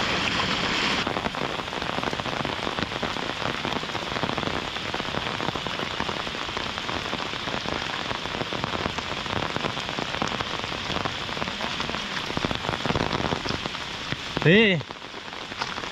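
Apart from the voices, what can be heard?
heavy rain falling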